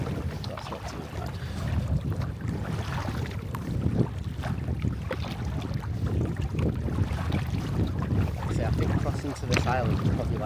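Kayak or canoe paddled across a lake in Sweden toward an island, with steady water swishes and splashes under constant wind buffeting on the microphone, and a voice talking over it.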